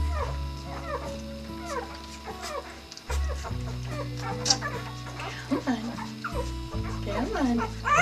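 Several puppies whimper, yelp and give short barks close by in a busy, overlapping chorus of high cries, while a person talks softly among them.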